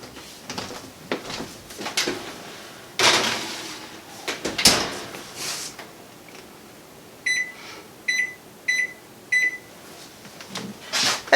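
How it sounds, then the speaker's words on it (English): An oven door is opened and shut while a tray of pecans goes in for candying, with clunks and rattles of the door and tray, followed by a short series of electronic beeps from the oven. "I'm gonna pop these in the oven"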